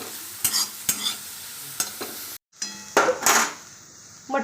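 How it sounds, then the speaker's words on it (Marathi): Moth beans (matki) roasting in a little oil in a pan, heard as loud close sizzling under sharp stirring scrapes and clinks, with a brief cut to silence midway before the frying and stirring resume. "मटकी भाजण्यासाठी मी थोडंसं तेल ओतत आहे त्यामध्ये"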